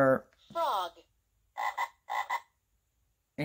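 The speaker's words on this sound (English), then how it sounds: "Her frog." A frog croaks from a sound storybook's recorded effect: a voiced note, then two pairs of quick, buzzy croaks, close and clear with no talking over them.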